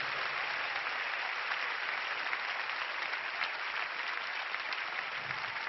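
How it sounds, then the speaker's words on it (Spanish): Sustained applause from a concert audience at the Teatro Gran Rex during a live show, steady and dense throughout with no voices standing out. "Quiero pedir un aplauso para mi madre aquí presente"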